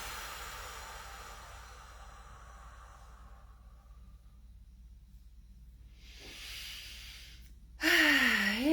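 A deep, slow exhale during a breathing exercise, a soft airy hiss that fades over a few seconds, followed by quiet, then a brief rustle and a voice starting at the end.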